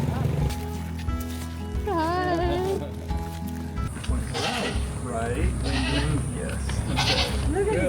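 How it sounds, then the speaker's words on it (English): Wild goats near a boat anchorage in the Gulf of Thailand bleat in several wavering, close calls, one after another, mixed with people talking over a steady low engine-like drone. "There's the wild goats. There's our friendly neighborhood goats."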